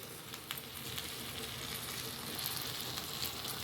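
Oil sizzles in a pan while citron pickle cooks, a steady, soft hiss of frying that continues evenly throughout with a few faint crackles.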